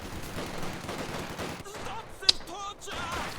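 Machine gun fire from an MG team in a Company of Heroes 2 battle, a dense continuous rattle of bursts over game ambience, then one sharp crack and quieter scattered shots at mid distance.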